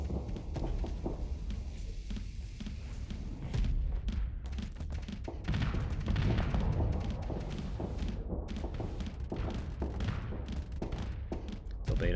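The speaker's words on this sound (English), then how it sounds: "Torpedoes are not quite connecting." Torpedoes and weapons fire in the space combat game Starsector, a dense run of thumping launches and impacts, rapid and overlapping, loud and continuous throughout.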